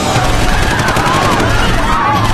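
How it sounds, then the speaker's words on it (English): Police gunfire into a crowd during a border clash, heard as a dense, loud wall of shots and crowd roar with no clear separate bursts. "suddenly, the police were shooting into the crowd"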